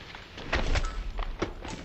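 In Hitman 2, coconuts shot loose from a palm fall onto a man below, landing as a few dull, heavy thuds close by, with one more soft knock shortly after and no voices.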